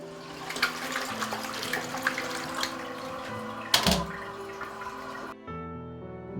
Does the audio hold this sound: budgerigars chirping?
no